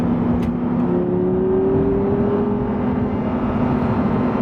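A 2011 Audi R8 V10 with a manual gearbox accelerates to pass another car, its engine a loud, sustained drone whose pitch climbs steadily under a constant wash of road and wind noise, heard from inside the cabin.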